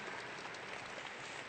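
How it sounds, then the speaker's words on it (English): Steady applause from a graduation ceremony audience at a high school, a brief, even burst of many hands clapping at moderate distance, with no voices standing out. "Yeah, I think that deserves an applause."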